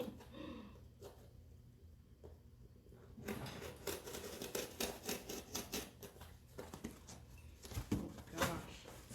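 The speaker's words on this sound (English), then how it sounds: "let's see if these scissors are gonna help." Rapid snipping and crunching of scissors cutting through material, close up, in a busy irregular rhythm after a quieter start.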